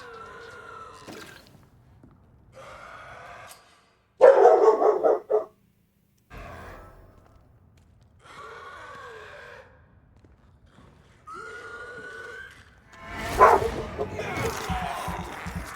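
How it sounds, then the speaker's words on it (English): A dog barks in several short bursts spaced across the clip, with a loud cluster near the middle and a noisier flurry toward the end, along with some sighing or whimpering sounds. "And there goes my dog."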